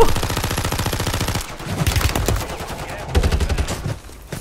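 A Holger 26 light machine gun in Call of Duty Warzone fires a long, loud, rapid burst of evenly spaced shots, followed by scattered gunfire and shorter bursts, with a voice briefly audible.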